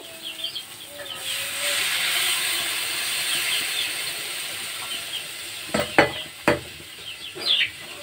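Water goes into a pan of fried spice paste for a prawn curry with mustard and coconut. A loud hissing sizzle swells and slowly fades, then a few sharp scraping clinks of stirring follow close by.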